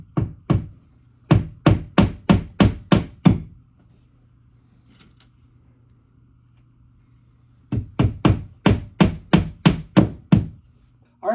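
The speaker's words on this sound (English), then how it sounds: "take the included nails, stick them in the holes, and then you're just going to drive them in with the hammer" Nails driven by hammer into a studless TV wall mount rail on a wall: two bursts of sharp, evenly spaced strikes, about nine blows each, close and loud, separated by a few seconds of near quiet.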